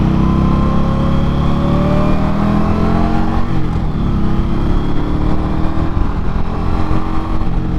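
An Indian Scout Rogue motorcycle engine drones steadily while riding, loud and continuous with a low rumble, with a brief shift in pitch midway.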